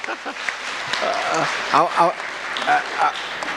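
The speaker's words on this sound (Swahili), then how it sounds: "Tupikie makofi bwana auditor" Audience clapping at a civil society education conference at KICD in Nairobi: a sustained, even wash of applause for the auditor, with voices heard over it.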